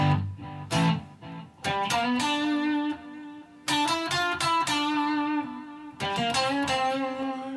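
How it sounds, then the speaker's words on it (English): Electric guitar with an echo effect: three bursts of picked notes, each trailing into repeating decaying echoes, loud and alone with brief gaps between phrases. "I can add echo"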